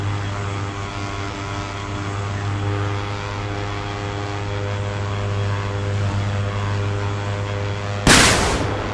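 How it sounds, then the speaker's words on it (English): Rockets fired at ground targets from an OV-10 Bronco in the DCS combat flight game, heard over a constant droning propeller engine hum, with a single loud burst near the end. "We're going to see if we can put a few rockets on their heads."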